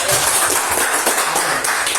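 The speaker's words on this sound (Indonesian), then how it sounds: "tepuk tangan yang mulia" An audience breaks into brief, bright applause, a dense patter of many clapping hands heard close and loud for a couple of seconds.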